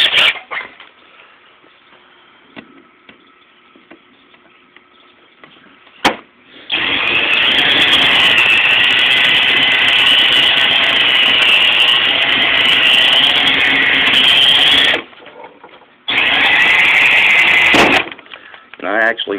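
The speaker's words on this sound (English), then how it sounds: "We're going to drill those rivets out." A power drill runs in two long bursts, a loud grinding whine drilling out metal rivets with a one-eighth-inch bit, separated by a brief pause, with quieter handling noises before.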